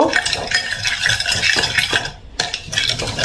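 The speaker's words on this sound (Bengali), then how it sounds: "এখন এটা হচ্ছে ভালোভাবে মিক্স করব।" A spoon stirring and tossing a fruit salad with lemon juice, salt, sugar and pepper in a bowl, giving close, wet scraping and clinking in uneven strokes, with a short pause before the mixing resumes.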